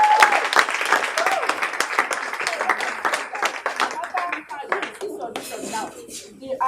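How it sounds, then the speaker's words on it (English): An audience at a film academy audition breaks into a burst of crisp, close clapping that thins into scattered claps toward the end, with voices talking alongside. "Can we give her a hand of applause?"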